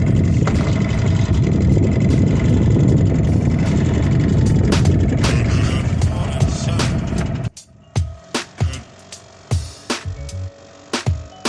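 A sailboat's motor drones steadily and loudly, then cuts out abruptly, leaving quieter knocks and creaks from the deck.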